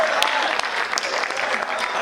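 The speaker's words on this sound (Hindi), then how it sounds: "आगे से पीछे तक ताली बजाओ" Audience applause at a Banaras comedy poetry (kavi sammelan) show, a dense steady clapping from a crowd lasting the whole moment, with a voice faintly present beneath.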